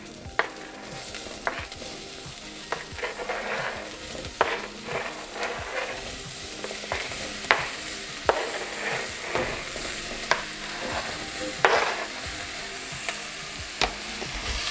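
Vegetables added for a red lentil bolognese sizzle in a frying pan while being stirred. A steady close frying hiss runs under frequent sharp scrapes and taps of a spoon, and no one speaks.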